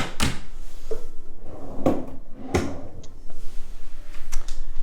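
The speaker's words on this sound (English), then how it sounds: "then you even have a drawer, pull-out drawer at the bottom" A pull-out drawer at the bottom of an armoire in a one-bedroom villa at Disney's Wilderness Lodge slides and knocks shut, with a few close wooden thumps and clunks in a quiet room.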